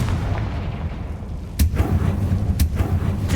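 Spell explosions from the Confringo curse in a video game, two sharp booming blasts about a second apart over a low rumbling game background.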